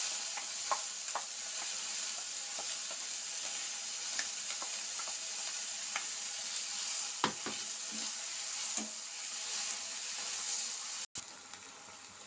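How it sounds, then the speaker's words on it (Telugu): Onions and freshly ground green chili paste fry in a pan for a curry, a steady bright sizzle with scattered scraping and stirring clicks and a few louder spatters, close and continuous throughout. "ఇప్పుడు ముందుగా మిక్సీ చేసి పెట్టుకున్న పచ్చికారం అయితే వేసుకోవాలి కూరలో"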